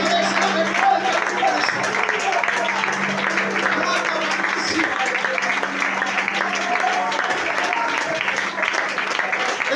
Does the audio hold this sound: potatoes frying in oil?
no